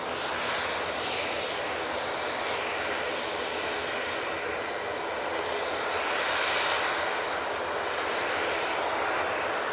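An Etihad airliner departs Manchester Airport with a loud, sustained jet roar that swells and shifts as it climbs away, steady for the whole span with no voices.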